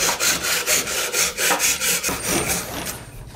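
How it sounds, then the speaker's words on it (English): Sandpaper rubs back and forth across a wooden drawer pull being shaped for a side table, a steady rhythmic rasping of about a dozen close, even strokes with no talking. "I'm actually going to go through and sand it and shape it to what I want."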